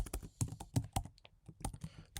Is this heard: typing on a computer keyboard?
yes